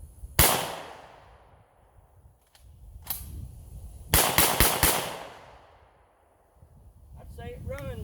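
Several loud, close blasts from a Citadel BR-99 12 gauge semi-automatic shotgun, a single shot, another after a pause, then a quick string of rapid shots, each with a sharp decaying report, followed by someone talking.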